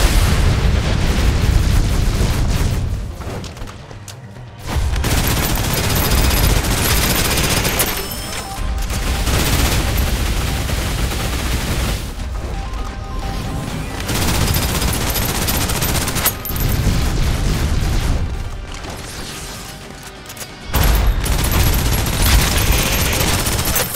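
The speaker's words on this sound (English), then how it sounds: "Suppressive fire." Dense, loud suppressive gunfire roars almost nonstop in the video game Snowbreak: Containment Zone, sustained automatic bursts with booming impacts, broken by brief pauses roughly every few seconds.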